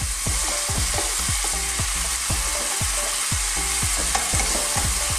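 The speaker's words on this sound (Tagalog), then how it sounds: "let us stir this for a few minutes" Cabbage sautéing for Filipino ginisang repolyo is stirred in a hot pan, a steady loud sizzle broken by a quick rhythmic series of scraping spoon strokes against the pan, close up and without speech.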